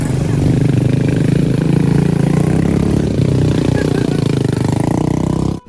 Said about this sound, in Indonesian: nunggu bapaknya ngidupin motor